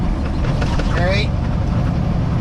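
A heavy haul truck engine runs loud and steady, and a rising whine sweeps upward around the middle as it works down through the high gears.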